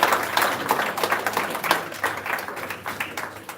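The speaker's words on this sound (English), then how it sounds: "Give her another round of applause, please." Audience clapping at an awards ceremony honouring Jamaican guidance counsellors, a moderate, dense patter of hands that holds steadily throughout without voices over it.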